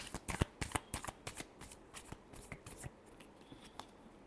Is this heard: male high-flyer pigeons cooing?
no